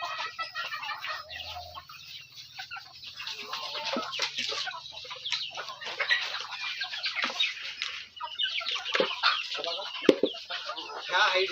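Egg-laying hens in a small backyard coop cluck and squawk in irregular bursts, several birds overlapping close by, over a low steady hum.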